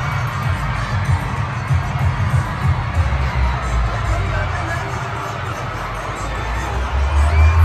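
A concert crowd waiting for the headliner shouts, sings and cheers in a steady, loud roar, with a deep thumping bass throbbing underneath from the venue before the show starts.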